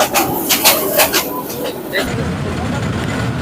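The Dhaka–Chattogram mail train pulls out of Feni junction with a loud, rhythmic clatter of wheels and carriages, then settles into a steady rolling rumble heard from on board.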